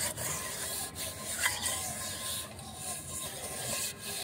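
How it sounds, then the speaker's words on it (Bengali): Clay is smeared and rubbed across the outside of a cooking pot and wok, making a continuous close, gritty rasping with slight rhythmic swells and no talking. "আর মাটিটা মাখাই যাতে কালিটা যে পড়বে তাড়াতাড়ি যাতে উঠে যায় সেই জন্য"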